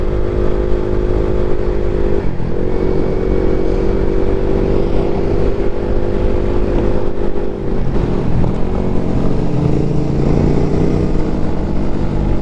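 Ducati Monster big bike at full throttle on a dark road without street lights, a loud continuous engine roar with rising pitch sweeps through gear changes, close and alone without talk.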